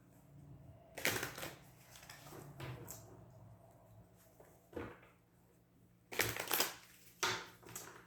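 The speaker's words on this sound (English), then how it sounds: "One more shuffle." Tarot cards are shuffled in a few quick, crisp bursts of riffling and sliding, separated by quieter pauses, close by and with no voices.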